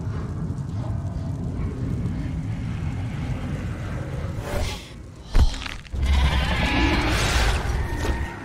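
Sheep bleat in the video game Beyond Two Souls, a few calls rising over a steady low outdoor ambience with a brief louder burst midway, no talking.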